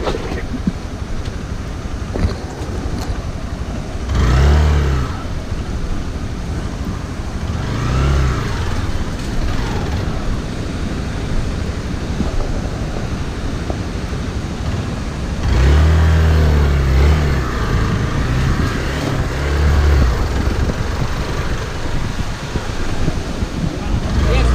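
Vehicle engine labouring and revving in a muddy mountain traffic jam on a rough off-road route in Nepal, a steady drone with louder surges, and people talk over it.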